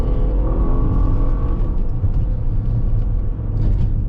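A 2014 Lincoln MKT with a 6-speed automatic, held in second gear around a course, gives a loud, close, sustained engine drone and rumble with steady revs and road noise and no talk.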